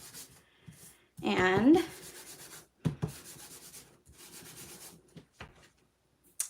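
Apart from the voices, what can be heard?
embossing buddy pouch rubbed over paper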